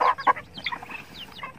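Native farm chickens cluck in short, uneven bursts nearby, a few sharp calls at first and then softer, scattered clucks and chirps.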